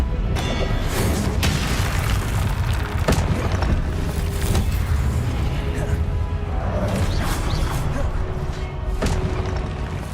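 Confringo explosion spell in the video game Hogwarts Legacy, giving repeated booming blasts and crashes over a dense, continuous battle din.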